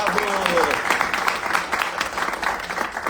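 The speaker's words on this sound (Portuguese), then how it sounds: "E eu quero pedir mais uma vez uma salva de palmas ao nosso querido desembargador e companheiro Luiz Cláudio Veiga." An audience applauds a judge at a ceremony of a literary academy: a dense, steady wash of clapping heard close, with some voices in the crowd under it.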